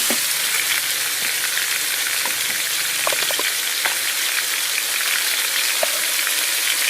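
Pork and broccoflower stir-fry in a hot pan, giving a steady, loud, close sizzle with crackling spatters throughout and no talk.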